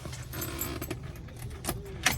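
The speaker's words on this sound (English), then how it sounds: "Now we're gonna put the keys in here." Car keys jangle and clink as they go into the ignition of a 1966 Mercedes that sat unused for 30 years, a short metallic rattle up close in a quiet space.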